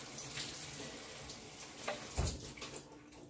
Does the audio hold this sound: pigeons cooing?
no